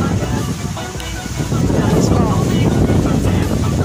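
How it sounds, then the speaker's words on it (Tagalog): Strong wind at the Tagaytay picnic grove buffets the microphone in a steady, loud rumbling roar, gusting slightly stronger toward the end. "lakas ng hangin dito"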